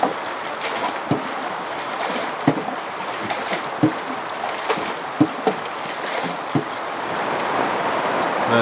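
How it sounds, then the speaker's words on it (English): Rain falls on a boat with a canoe alongside, a steady hiss of drops on the water and hull broken by scattered louder taps and drips, about a dozen sharp ones spread through the patter. "Looks like it's gonna rain for a while."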